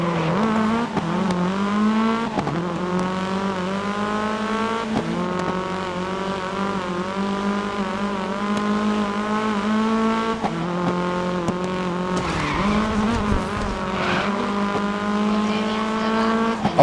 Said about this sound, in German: Aber ein Power Drift, geil